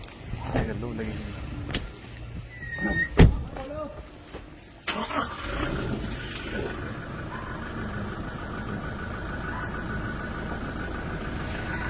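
A Toyota Fortuner SUV starts up with a brief crank and then settles into a steady engine hum as it pulls forward, with a door clunk and people talking nearby.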